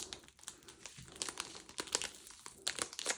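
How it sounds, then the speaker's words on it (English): A noisy plastic cover on a Hobonichi planner crinkles close up during unboxing, a steady stream of sharp crackles and rustles with no speech. "I'm sorry about the noisy plastic cover."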